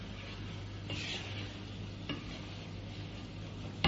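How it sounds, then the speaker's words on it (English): Fresh turmeric fish curry cooks in a pot with a soft, even bubbling hiss and a low background hum, broken by an occasional faint clink of a utensil. "Just let it simmer away."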